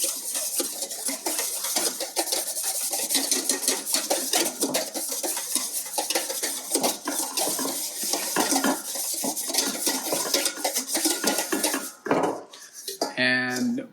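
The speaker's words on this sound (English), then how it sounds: "We're gonna whisk that all together." A whisk rattles steadily against a bowl, mixing salad dressing for a salmon pasta with dill, artichokes and capers: fast, bright metallic clinking close by that runs without pause, then some clattering at the end.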